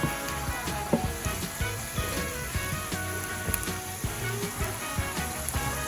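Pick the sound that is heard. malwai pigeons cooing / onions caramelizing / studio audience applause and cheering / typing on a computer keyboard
onions caramelizing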